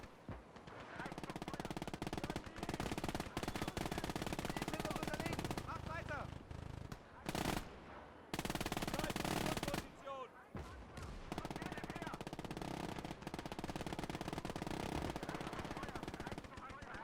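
American artillery in a World War II real-time strategy game fires in heavy, near-continuous bursts of booming and rattling gunfire, with short gaps between volleys and a player's voice now and then.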